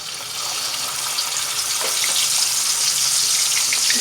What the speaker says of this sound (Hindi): अब मैं चेस्ट को घी में डालूँगी और इसे फ्राई कर लूँगी।